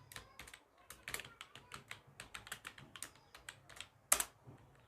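Python code being typed on a computer keyboard: quick, irregular keystrokes close to the microphone, with a sharper clack near the end, alone and without talk.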